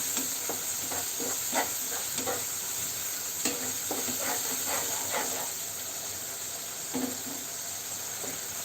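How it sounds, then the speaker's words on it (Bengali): Spice paste stir-fried in a pan for a prawn and brinjal bhuna, a steady close sizzle and hiss with a run of quick spoon scrapes that thins out, then a few more strokes near the end. "এখন খুব ভালো করে এই মশলাটাকে কষাতে হবে"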